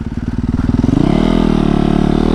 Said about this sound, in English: My lovely YZ450FX Supermoto, baby. This thing is absolutely a beast.